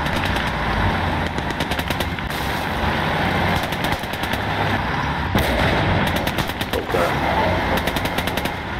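Artillery and machine-gun fire in the World War II game Gates of Hell: Ostfront, dense rapid bursts of shots with heavy booms over a continuous loud engine rumble.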